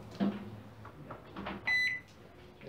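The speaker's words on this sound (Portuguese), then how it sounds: "vou pegar e ligar o micro-ondas" An Electrolux MEC 41 microwave oven with a faulty control board that won't trigger its transformer relay, switched on with clunks and handling noise, then a sharp electronic beep before a low running hum.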